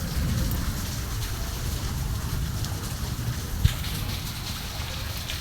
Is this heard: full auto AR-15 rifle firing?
no